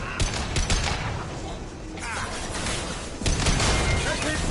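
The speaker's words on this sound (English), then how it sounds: "That fuel tank's coming loose. Shoot it!" Gunfire rattles in Mass Effect 2 as shots are aimed at a fuel tank, rapid bursts of loud shooting mixed with metallic crashes and mechanical clatter, with voices talking over the action.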